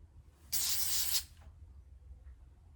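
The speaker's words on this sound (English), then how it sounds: "I'm just gonna take my hairspray" A single close hairspray burst hisses for about half a second, then fades, leaving a quiet room.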